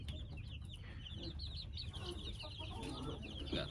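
Naked neck chickens cluck and chatter inside a backyard coop, with repeated short, soft calls from several birds over a low background rumble, close but fairly quiet.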